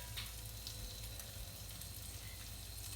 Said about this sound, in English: we're gonna start shallow frying